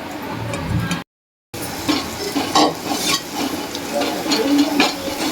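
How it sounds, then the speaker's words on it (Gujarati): Flour roasting in hot ghee over a medium gas flame, stirred steadily with a spoon, giving a close, continuous scraping sizzle with one brief gap. "ગેસ મીડિયમ રાખવાનો બહુ ફાંસી નહીં રાખવાનો અને સાવ ધીમોય નહીં રાખવાનો મીડિયમ ગેસે આપણે આ લોટ શેકી લેવાનો"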